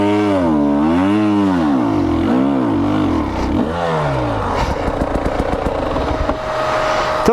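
A 2020 KTM 300 XC-W two-stroke dirt bike engine revs loudly and close during an enduro trail ride, rising and falling through several surges before the pitch settles higher after the shift into third gear.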